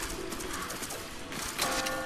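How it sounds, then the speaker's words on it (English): Pigeons coo in the video game Tokyo Jungle, soft repeated calls over a dense, steady bed of game ambience with no speech. "You can kill those birds."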